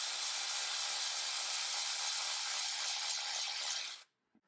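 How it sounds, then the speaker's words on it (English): A cordless ratchet whirs steadily for about four seconds while backing out an oil filter assembly bolt on a 2006 Honda Odyssey EX-L, then stops abruptly, followed by a faint click. "Now I'm just going to use a cordless ratchet to take that off."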